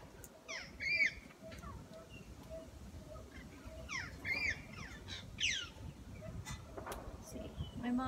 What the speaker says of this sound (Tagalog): See, may mga birds dito guys.